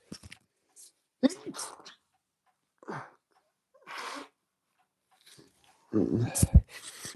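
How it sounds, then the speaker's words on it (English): Scattered sniffs and short nasal bursts close to the microphone, ending in a louder sneeze, separated by quiet pauses. "Excuse the sniffing and sneezing."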